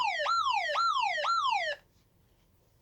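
A Simplex 3001 fire alarm system wails in three repeated sweeping electronic tones, loud and close, then cuts off abruptly into near silence.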